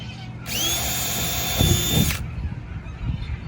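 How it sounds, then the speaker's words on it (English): A power drill whines at high pitch for about two seconds as it bores into fiberglass, then stops, leaving a quiet background. "Drill a couple more."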